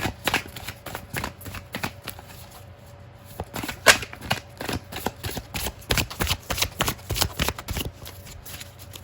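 Tarot cards are shuffled by hand in a long run of quick, crisp riffles and slaps, close and fairly loud, with no talking.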